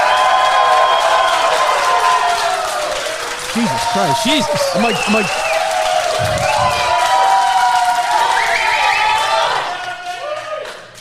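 A live studio audience of fans cheers, whoops and applauds at a comedy podcast taping, a dense, loud crowd roar that swells and holds for several seconds before tapering off, with a man exclaiming over the top.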